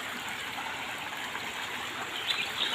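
A village stream in the Konkan countryside flows steadily, giving a continuous rushing and trickling wash of water with no voices over it.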